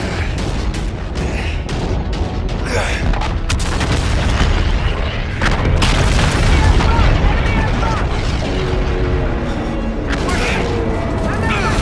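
Dense gunfire and booming explosions from the game Call of Duty: Infinite Warfare crash in rapid irregular bursts under shouted voices, loud and close throughout a naval battle scene.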